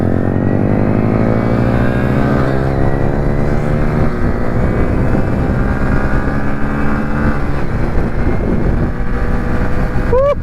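Hero Splendor Plus Xtec 2.0 motorcycle accelerating hard at speed, a loud, steady engine drone rising in pitch throughout, with heavy wind rush and vibration and no break.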